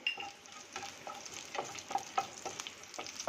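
Mustard seeds and curry leaves sizzle in hot oil for a leftover-bread snack, a steady close hiss scattered with small crackling pops and soft stirring, with no voices.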